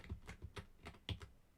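Keys clacking on a modern computer keyboard in quick, uneven strokes, about nine distinct taps with a slightly heavier press near the end, close but fairly quiet.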